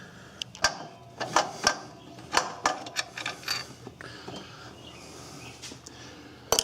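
Bolts being taken out of an alternator on a Ford Ranger: irregular metallic clicks and ratcheting taps in short clusters, close and moderately loud, thinning out toward the end.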